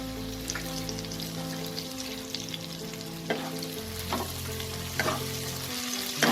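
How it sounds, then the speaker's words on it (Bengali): Chopped tomato fries in a pan with a steady sizzle, broken by occasional scraping stirs. A low hum runs underneath. "টমেটোটা নরম হওয়া অবধি আমি ভেজে নেব"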